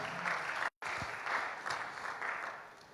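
Church congregation applauding: dense, even clapping from many hands that fills the whole space, moderately loud, with a very brief cut partway through.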